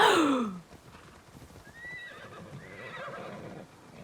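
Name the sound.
horse neighing in video game Immortals Fenyx Rising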